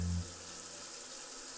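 A shower head runs water while Nana the cat drinks from the stream, a steady, close hiss of spray that follows a brief low hum at the start.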